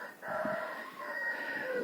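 Hens clucking and murmuring softly at close range inside a closed coop, a few short calls over a quiet barnyard background.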